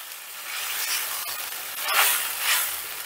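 Ground tomato hits hot frying spices in a pan, giving a steady, loud broadband sizzle that swells a couple of times, close and continuous with no voice.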